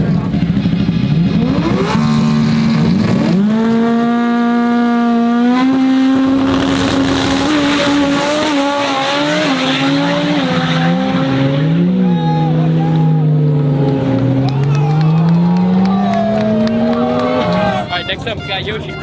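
K-Series drag car racing against a rotary car at a fast imports drag event, loud engines roaring and revving up through climbing gear pulls, with overlapping engine notes filling the whole stretch, loud throughout.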